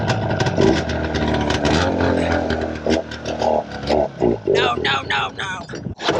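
A truck engine cranks and catches, then revs in rough uneven bursts that rise and fall, loud and close, with a sharp clunk near the end.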